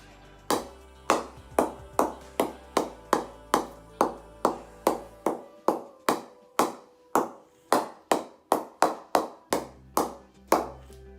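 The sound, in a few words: cricket ball hitting a knocked-in cricket bat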